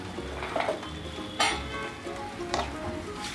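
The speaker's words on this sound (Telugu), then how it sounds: "ఈ పాలన్నీ ఎగిరిపోయే వరకు ఉడకనివ్వాలి." Grated carrot halwa cooks down in milk in a pan, giving a close bubbling sizzle while a spoon stirs and occasionally clinks against the metal.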